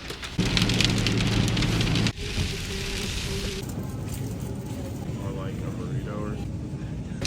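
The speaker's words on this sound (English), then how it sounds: "It's hailing now." Hail falls in a dense, loud hiss on outdoor surfaces, abruptly muffled partway through, then continues more softly under a faint voice.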